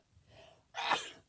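A single loud, close human sneeze, preceded by a soft intake of breath, bursting out sharply and fading quickly in a live broadcast setting.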